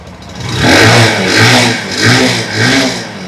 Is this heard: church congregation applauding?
no